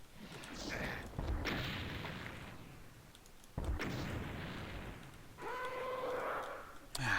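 Rocket launcher fire in the Doom game, with heavy booming blasts and explosions arriving in a few bursts over rumbling game noise, plus a short sharp hit at the end.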